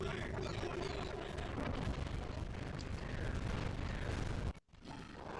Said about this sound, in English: I'm calling in an airstrike.